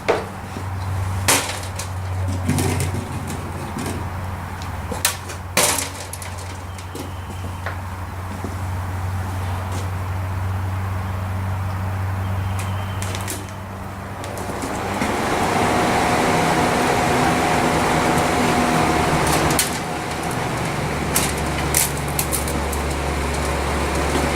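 A newly installed crate motor runs through its break-in with a steady low rumble, punctuated by sharp knocks and clatter, shifting to a louder, fuller drone partway through.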